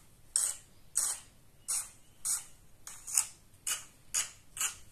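Eight crisp bursts of a hair clipper buzzing in short strokes during a haircut, evenly spaced, close and fairly quiet with no talk.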